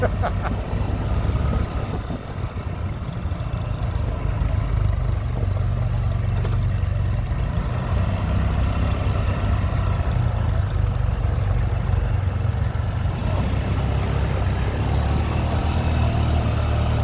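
A steady, low tractor engine rumble runs throughout at a tractor and engine show, close and continuous, with no voices.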